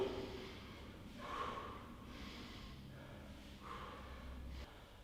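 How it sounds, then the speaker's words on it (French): Breathing during a bootcamp leg-raise exercise: two forceful exhales with the leg lift, each followed by a softer inhale on the return, close and moderately loud over faint background noise. "On souffle quand on monte la jambe et on inspire au retour"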